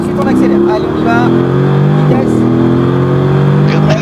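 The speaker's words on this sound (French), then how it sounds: "on entend bien le V8 quand même" A V8 car accelerating on a race circuit, its loud engine note climbing steadily through the revs close up, with a brief dip at a gear change, while someone talks over it.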